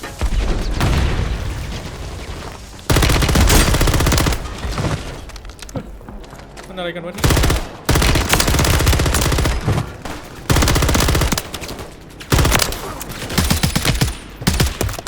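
Bursts of loud rapid gunfire and booms from Warzone come in repeated waves, with a brief lull midway; a voice speaks briefly.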